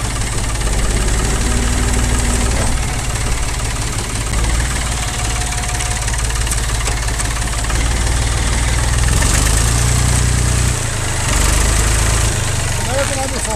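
A tractor engine running in low gear gives a loud, steady low rumble with a slight knocking throb that continues unbroken through the whole stretch, with a voice occasionally heard over it.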